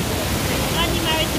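Broadband rushing water at the top of the Dataw Gyint waterfall in Myanmar, where the drop begins, a steady roar that continues without a break and sits close and full over the whole stretch.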